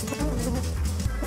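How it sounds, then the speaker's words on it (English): A large swarm of bees, named as killer bees, buzzes close by, smoked by a beekeeper. The hum is a loud, continuous, low drone with a wavering pitch, heard without speech. "Sure are a lot of bees, though."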